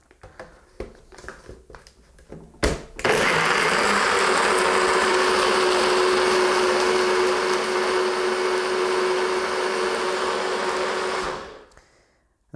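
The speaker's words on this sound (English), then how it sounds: "this NutriBullet is quite noisy. It's a very effective blender, but it's very, very noisy" A NutriBullet blender whirs a green smoothie. It starts abruptly, holds a loud, steady high-pitched roar for about eight seconds, then cuts off, with faint clatter before and after.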